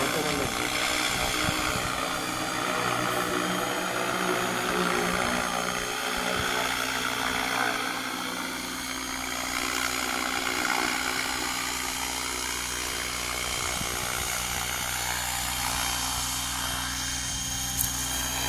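A drone or RC aircraft with an ABS-guided auto-landing mode hums steadily with a loud, continuous motor and propeller drone that never stops; people talk over it near the microphone.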